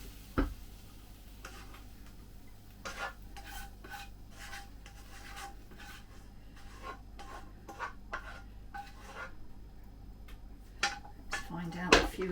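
Utensils scrape and clink against a pan and plate while king prawn chow mein is served up, a run of short, quiet scrapes and taps at close range.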